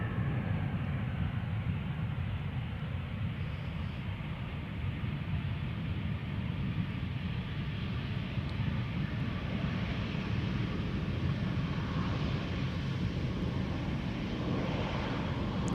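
A Ryanair airliner landing, its broad steady engine roar filling the whole stretch at constant loudness, distant and continuous with no talk.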